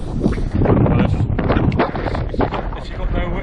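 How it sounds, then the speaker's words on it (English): Loud, buffeting wind gusting around 40 mph on a Scottish upland trail roars across the microphone in uneven gusts, with rumbling bursts rising and falling throughout. "it's 40 mile per hour winds at the moment, by the way, gusts"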